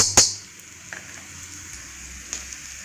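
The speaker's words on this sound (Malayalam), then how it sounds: "അപ്പോൾ ഇതാ നമ്മളെ സവാള ഇപ്പോൾ അത്യാവശ്യം വഴണ്ട് വന്നിട്ടുണ്ട്, കളറൊക്കെ മാറിയിട്ടുണ്ട്." Sliced onions fry in a hot pan at a Kerala street-food stall as coriander powder goes in, a soft steady sizzle with a sharp hiss at the start and a few faint clicks.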